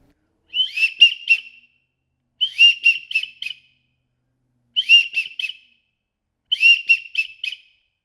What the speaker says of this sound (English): And that's the widgeon.